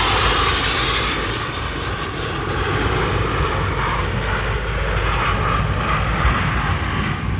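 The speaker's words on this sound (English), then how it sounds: "Number 800 Squadron, the Royal Navy aerobatics team of 9 scimitars." Nine Royal Navy Scimitar jets of 800 Squadron flying formation aerobatics at the Farnborough air show, a loud, steady jet engine roar that holds throughout with slight swells.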